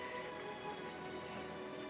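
Rain falls in a 1943 American drama film as a steady, dense hiss with no pauses and no voices.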